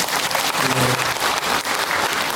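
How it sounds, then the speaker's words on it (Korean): Applause at a lifelong learning showcase event: a short, steady burst of many hands clapping, with a brief low voice murmur in the middle. "박수 한번 보내주십시오"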